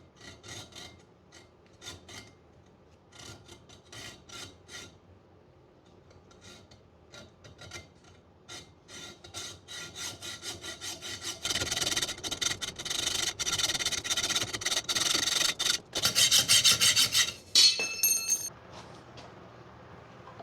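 A hacksaw cuts through all thread clamped in a vise, starting with sparse, light rasping strokes that build into a faster, louder rhythmic back-and-forth sawing before easing off near the end.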